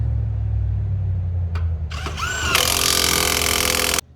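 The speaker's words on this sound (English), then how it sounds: "You always want to tighten your threads on a little bit before you use an impact." An impact wrench runs up on trailer wheel lug nuts after a steady low engine hum, starting with brief spins and then hammering loudly and continuously for over a second before cutting off.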